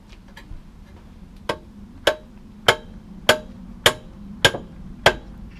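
A Volvo C30 or V40 gearbox input shaft is worked into the clutch during a clutch replacement, giving a series of sharp metallic clicks spaced roughly every half second, close and distinct over a low background hum.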